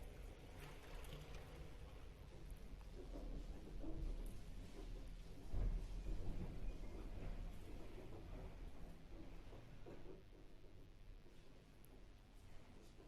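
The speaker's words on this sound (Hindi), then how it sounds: "बहुत भयानक तूफान आ गया भाई।" A violent thunderstorm roars as a steady, faint wash of rain and wind, with low rumbling swells of thunder rising near the middle. No voices are heard.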